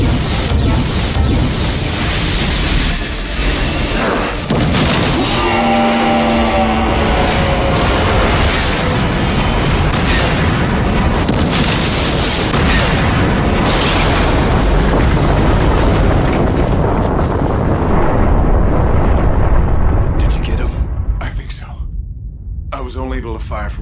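Explosion from a direct hit in an animated sci-fi series about alien invaders: a loud, sustained roaring blast that fills the scene for about twenty seconds before breaking up and fading, with dramatic effects layered in.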